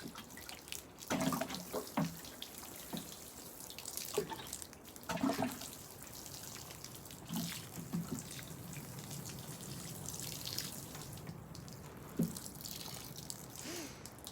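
Water from a watering can patters and trickles softly onto the soil between parsley plants in a garden, with intermittent splashes and drips over a quiet, steady flow.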